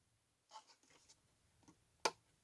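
A few soft handling taps, then one sharp, distinct click as a magnetic clasp on a handmade paper item snaps shut, close and quiet.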